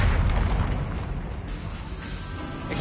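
A Confringo blasting spell in the video game Hogwarts Legacy goes off as a heavy, rumbling explosion. It sounds as a dense, sustained boom with a roaring tail that fills the whole moment.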